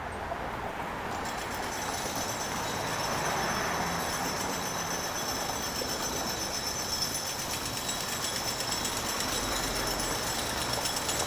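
Union Pearson Express train rumbling past in Toronto's Bloor West area, a steady broadband rail roar with a faint high metallic whine, sustained at even loudness for the whole span with no voices.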